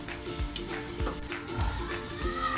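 Chicken green karahi cooks in a covered pot over a low flame, giving a steady soft sizzle and frying hiss with faint bubbling throughout, heard alone without voices.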